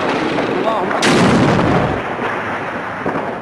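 Heavy gunfire and artillery booms echo across a war-torn Syrian town, with a sharp loud blast near the start followed by rolling reverberation and fainter distant shots.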